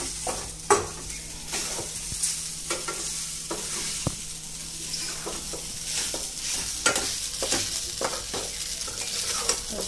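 Sabudana khichdi stirred in a pan, with repeated scraping and clinking strokes of a spoon over a soft continuous sizzle, close up, irregularly spaced over several seconds, no voices.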